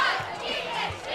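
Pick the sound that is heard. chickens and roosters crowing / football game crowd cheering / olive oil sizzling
football game crowd cheering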